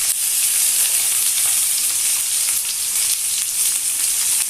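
Vegetables frying in a pan with salt for a Bengali fish curry, a loud continuous bright sizzle with crackling spatter, steady and close throughout.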